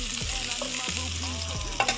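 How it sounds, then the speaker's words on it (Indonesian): Sliced shallots, garlic, large chilies and bird's eye chilies sauté in coconut oil in a pan, a steady close sizzle with the scrape and clatter of stirring throughout, and no voices. "Tumis bawang merah, bawang putih, cabai besar,"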